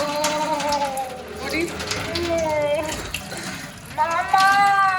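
Tap water runs steadily into a sink over a freshly cut finger, a continuous splashing stream that carries on under a voice speaking in Hindi-Urdu.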